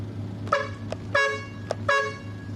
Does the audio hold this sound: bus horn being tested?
yes